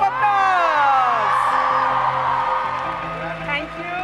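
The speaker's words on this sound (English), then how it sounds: "Can we have a big round of applause?" A live stage-event audience cheers loudly, with whoops and yells rising above a dense crowd roar that holds steady throughout.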